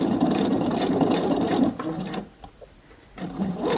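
A sewing machine runs steadily for under two seconds, stitching in the ditch on a garment, then stops and falls quiet before a brief soft resumption of mechanical motor hum.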